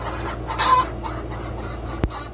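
Free range chickens on a Filipino egg farm cluck in soft, scattered calls against a steady background, with a brief louder burst near the start and a short sharp knock toward the end.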